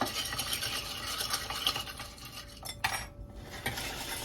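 A spoon stirs crushed ice in a mint julep, producing a brief run of close, gritty scraping and clinking with a short pause near the end.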